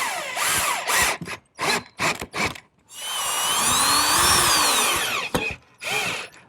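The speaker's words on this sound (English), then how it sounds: "Now I can secure the stump with some screws." A power drill drives screws into the wooden stump of a cigar chair arm, with several short whirring bursts, a sustained rising-and-falling drive of about two seconds, then more brief bursts, loud and close with no talk.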